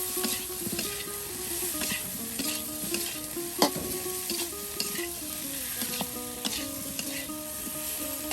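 Bananas frying in a pan, cooked village-style, giving a dense, steady sizzle with occasional stirring clatter, while a melodic tune plays throughout.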